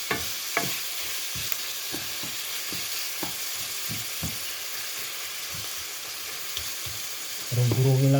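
Tomatoes are crushed in a pan while fermented fish (burong isda) sautés, giving a constant sizzle. Repeated soft thuds and scrapes of the utensil come at an irregular rhythm over it.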